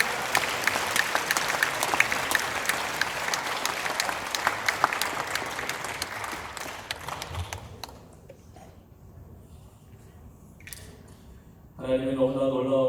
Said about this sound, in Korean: 감사합니다. 박수로 함께.